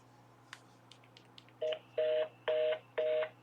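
A telephone keypad being dialed: several short faint clicks, then four evenly spaced, loud two-tone beeps from the button presses, close and clear over a low steady hum, with no talking.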